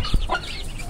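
A chicken gives a short, close cluck after a brief thump, a quick burst of sound.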